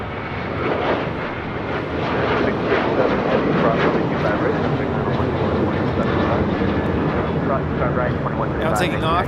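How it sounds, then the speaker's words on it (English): A Turkish Airlines Boeing 777 jet arriving from Istanbul at LAX, its broad, steady engine roar holding loud and constant throughout, with a voice talking over it. "Turkish 777. Turkish 8 Mike Tango coming in from Istanbul."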